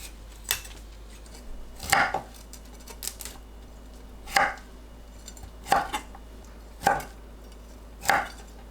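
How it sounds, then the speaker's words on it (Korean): A knife chops washed broccoli into bite-size pieces on a cutting board: about seven crisp, separate thuds spaced irregularly a second or so apart, close and fairly quiet over a low background hum. "씻은 브로콜리를 한 입 크기로 썰어 주세요."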